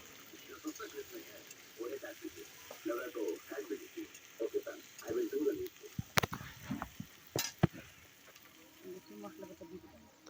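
Salt being stirred into fried spice mix in a pan for an amra (hog plum) pickle: soft scraping with a couple of sharp spoon clinks near the end, mostly under a woman's steady speech.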